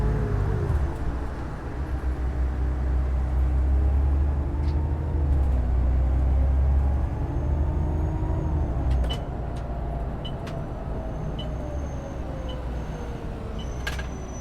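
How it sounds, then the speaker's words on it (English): A London double-decker bus in the OMSI 2 driving simulator on Route 12 holds a loud low engine drone that winds down, with brake hiss and clicks near the end, all close and without talk. "I actually heard the flipping brakes come on the bus. Heard the engine revving down."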